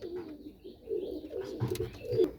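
Low burbling coos from a pair of pigeons repeat steadily and nearby, swelling toward the end, with no speech over them.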